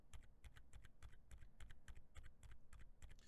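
Outemu Cream Yellow silent tactile switches on a mechanical keyboard give a quick run of soft, muted keystrokes in a steady typing rhythm, close up and quiet.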